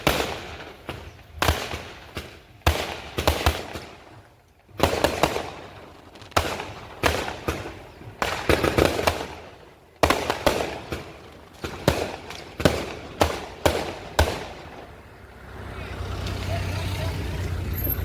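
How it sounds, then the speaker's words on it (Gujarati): Firecrackers burst in quick succession, a long run of sharp, loud cracks and bangs following one another irregularly, with voices audible between them and a steadier hum at the end. "તમે ફટાકડા ને એવું બધું ફૂટવા માંડ્યું"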